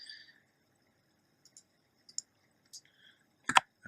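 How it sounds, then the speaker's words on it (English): A plastic computer keyboard gives a few sparse, irregular key clicks, quiet and close, ending in a louder little cluster of taps, with no talking. "Oops, I'm typing in English."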